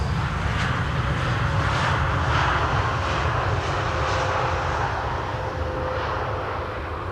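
An El Al Boeing 787-9 Dreamliner arrives at Schiphol Airport on the Polderbaan runway 18R. Its jet roar is loud and steady throughout, broad and rushing with no voices.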